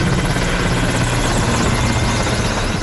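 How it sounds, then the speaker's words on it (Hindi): An Indian Air Force Mi-17 (M117) military helicopter flying low over a hospital in Kolkata during a flower-shower salute, its steady rotor and engine roar loud and continuous with no voices. "इंडियन एयरफोर्स के M117 हेलीकॉप्टर ने कोरोना वॉरियर्स डॉक्टरों और पुलिसकर्मियों के सम्मान में एक अस्पताल पर कुछ इस तरह पुष्प वर्षा की।"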